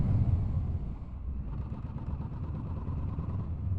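A Kawasaki Z650 motorcycle with twin front discs, a single rear disc and ABS braking hard down from about 60 mph, a steady engine drone and road roar that ease slightly as the bike slows.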